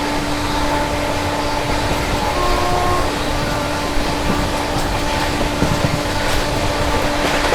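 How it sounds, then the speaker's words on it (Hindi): Rumble of a CR Rajdhani Express train overtaking the Gorakhpur–Hadapsar Pune special at high speed, a steady loud rolling roar with a faint sustained hum, continuous throughout. "गोरखपुर से चलकर हड़पसर पुणे की ओर जाने वाली स्पेशल का अपनी सीआर राजधानी एक्सप्रेस ओवरटेक कर रही है।"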